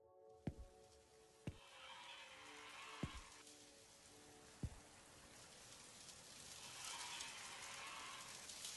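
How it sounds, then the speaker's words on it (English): Rain falling indoors inside a convenience store in The Convenience Store horror game, a soft steady patter that swells toward the end, with a few sharp isolated knocks early on. "It's raining inside."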